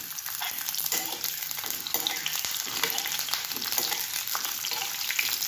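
Pointed gourd (parwal) pieces sizzle in hot oil spiced with split chillies, black peppercorns and cloves over a low flame, a steady bright frying hiss with occasional stirring scrapes and ticks, close and continuous, no voices.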